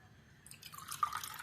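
Water from a tumbler is poured into a cooking pot on the stove while making rice-flour dough, a brief, faint trickle and splash that starts partway through and stays quiet.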